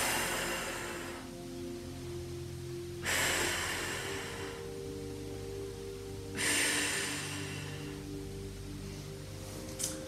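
Slow, deep breaths during a Pilates child's pose, three long airy exhales spaced a few seconds apart, close and soft over a quiet room hum.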